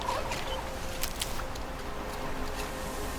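Chickens in the Horizon Zero Dawn video game cluck and peck faintly over a steady ambient bed, with a few brief sharper clicks scattered through.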